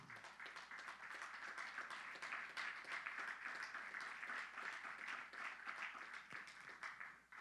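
A church congregation applauds in a steady, dense wash of clapping that holds evenly for several seconds at moderate distance, with no voices on top.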